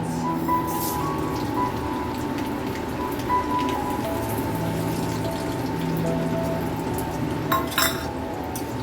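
Fenugreek, black mustard seeds, bay leaf and dried chillies sizzling in hot mustard oil in a kadai for tempering, a steady crackling spatter with faint pops and a brief clink near the end, no talk.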